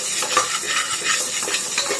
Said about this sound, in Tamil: அந்த குக்கர்ல வந்து போட்டு நல்லா வந்து இப்படி வறுத்துக்கோங்க